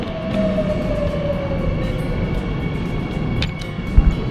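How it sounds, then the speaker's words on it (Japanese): A subway train pulls into Gyeongbokgung station on the Seoul metro, giving a continuous heavy rumble with a slowly falling tonal whine as it brakes, and a couple of sharp clunks near the end. "電車到着。"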